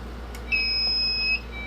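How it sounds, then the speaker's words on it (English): A conventional fire alarm control panel (MS2) gives a single steady electronic beep lasting under a second, loud and clear over a low hum. "you would just hit this acknowledge button so that it would stop beeping"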